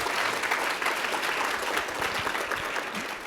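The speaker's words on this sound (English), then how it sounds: "let's all give Adrian a big round of applause" An audience at a pollinator network gathering applauds warmly, a dense, steady wash of clapping that holds at an even level throughout the short stretch, with no voices rising above it.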